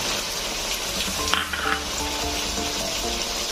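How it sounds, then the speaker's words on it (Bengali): Tomato paste sizzles in hot oil with ginger-garlic paste for a chicken curry, a close, steady frying hiss broken by a few soft clinks of stirring. "2 মিনিট কষিয়ে নিয়ে আমি টমেটো বাটাটা দিয়ে দিলাম"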